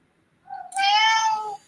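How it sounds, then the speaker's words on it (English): A house cat gives one drawn-out meow, close and clear, rising after a brief soft lead-in and then cutting off. It stands alone against near silence. "I hear your kitty"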